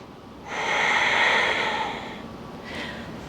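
A long, audible breath during a yoga flow rises into a breathy rush that lasts over a second, then fades, followed by a shorter second exhale, close and alone without talk.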